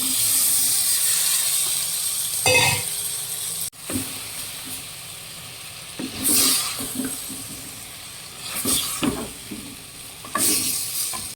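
Cooked mutton tipped into a hot pan with masala for mutton sukka, frying with a close, steady sizzle and hiss broken by several louder bursts of stirring and scraping; no voices.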